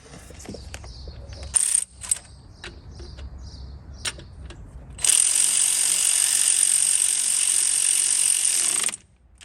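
A ratchet works on an alternator bolt of a Toyota Corolla, with a few quick clicks and clanks first, then a long loud buzzing ratcheting run lasting several seconds, close up.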